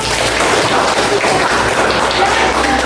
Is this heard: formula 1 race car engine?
no